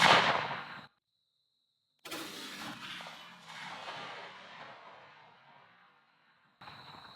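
Two shotgun blasts from a Franchi Affinity 3 fire at a 40-yard patterning target outdoors, each a sharp loud crack with a long decaying tail, separated by a second of silence, then another sound starting at the end.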